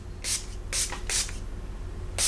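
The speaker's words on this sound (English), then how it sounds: "So today I'm gonna be using the Milani Makeup Last Setting Spray." Milani Make It Last setting spray hisses from a pump bottle in four short, sharp bursts, close to the mic, with quiet pauses between the spritzes.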